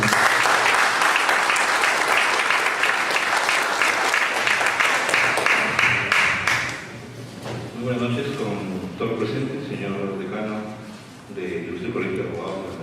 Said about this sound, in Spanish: para quien pido se le brinde un fuerte y muy merecido aplauso